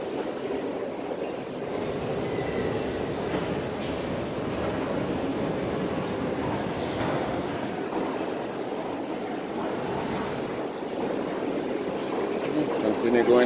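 A train rumbles continuously nearby in central Lisbon with a rolling metallic roar, steady and fairly loud throughout, swelling slightly toward the end.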